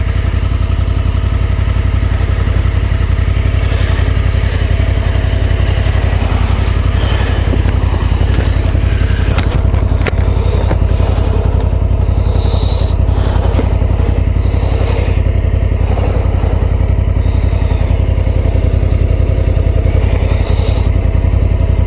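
A Honda Africa Twin Adventure Sports motorcycle engine runs loud and close, a steady throbbing rumble with mechanical clatter, occasional small revs and knocks throughout.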